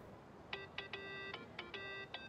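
A phone rings in the PC version of the video game Yakuza 8, sounding as a series of short, bright, repeating electronic tone bursts that start and stop in a steady ringtone pattern, clear and alone.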